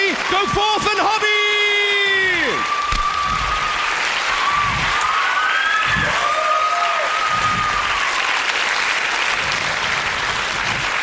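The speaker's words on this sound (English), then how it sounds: "Give them a round of applause." Sustained, loud audience applause with cheering and whoops at a 1995 live comedy show at The Cochrane, filling the room steadily, with a voice speaking over the start.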